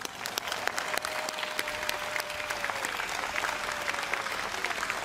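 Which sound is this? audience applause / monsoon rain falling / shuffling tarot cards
audience applause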